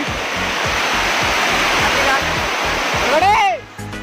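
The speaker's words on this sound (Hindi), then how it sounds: "तो यहाँ भी टे देखो छोट वाटरफॉल टाइप देखा जाऊँगी" Small waterfall at Punjisil in Koraput, a steady broad rush of falling water that holds loud and even throughout, with a brief whistle-like sweep near the end as the sound cuts down.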